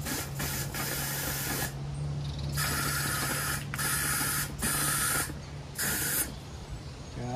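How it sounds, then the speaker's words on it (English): Air blown through the radiator of a Chinese 150cc scooter hisses in several bursts, a loud breathy rush starting and stopping with short pauses, over a low steady hum. "I'm just going to blow in here, see if it'll come out that side."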